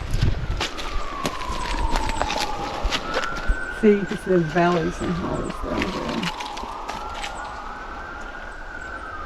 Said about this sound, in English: Yeah, the sirens in the background suggest that civilization's on its way.